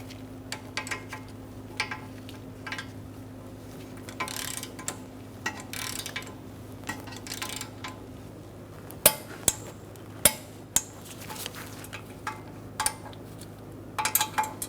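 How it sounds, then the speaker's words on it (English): A torque wrench tightens the outer tie rod nut on a 2013-2022 Buick Encore, giving a series of sharp, close metallic clicks and ratcheting taps that grow more distinct toward the end, over a steady low hum. "So we're going to torque this nut to 22 foot-pounds first."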